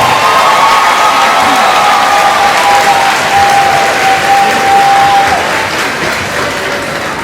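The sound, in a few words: commencement audience applause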